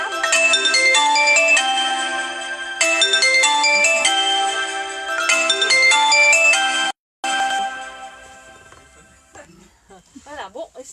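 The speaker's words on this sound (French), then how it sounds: "il y a le téléphone qui sonne en même temps" A telephone ringtone plays a bright repeating melodic pattern, loud and close, in several bursts with a brief cutoff near the end, followed by fainter sounds.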